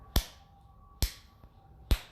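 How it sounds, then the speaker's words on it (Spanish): Three sharp, isolated hand claps spaced just under a second apart, marking a song's steady pulse; each is crisp and close with a quick decay into near silence between. "lo voy a hacer con aplausos para no sacudir la cámara"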